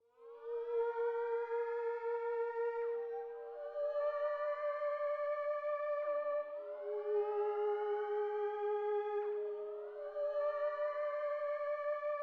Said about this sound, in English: when playing this, it goes up, it just pitches up and it gives like a cool spooky effect